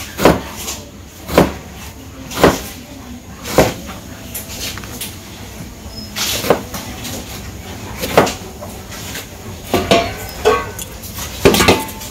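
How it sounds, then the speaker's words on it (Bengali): A knife chops eggplants for a village-style egg curry, about a dozen sharp knocks on a board at an irregular, steady pace, close and clear, with no talking. "তো আলুর সাথে বেগুনও দিব, বেগুনগুলাও কেটে নিই।"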